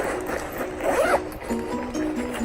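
A zipper pulled shut along the back pocket of a Miss Fong Tote backpack, one close, continuous zip lasting about a second, loud and clear with no talking.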